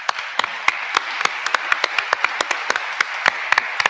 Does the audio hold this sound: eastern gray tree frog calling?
no